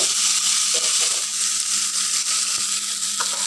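Garlic and fish fry in a pan with a loud, steady hiss and crackle, plus occasional soft stirring scrapes, close and constant throughout with no voices.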